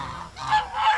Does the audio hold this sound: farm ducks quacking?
yes